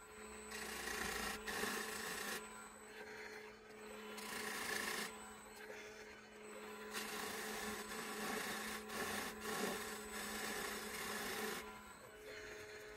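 A lathe tool scrapes and rasps against a spinning wooden bowl in long, continuous passes, with a steady motor hum underneath and brief pauses between cuts.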